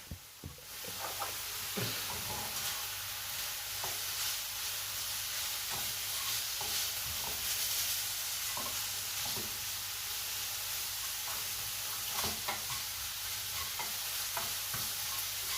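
Onions fry in a pan with a soft, continuous sizzle and hiss, while a utensil stirs and scrapes them in occasional short strokes; the cooking sounds are fairly quiet and close.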